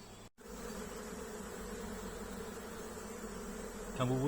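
Steady, dense buzzing of many honeybees close by at a hive during a spring swarm, continuous throughout with a brief dropout near the start and a louder insect whine at the end.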